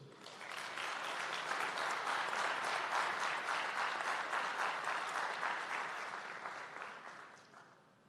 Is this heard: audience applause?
yes